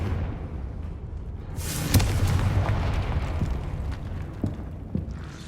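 A Confringo fire-blast spell explodes in the Hogwarts Legacy video game, one deep, fairly distant boom that swells into a rumbling burst and fades over several seconds.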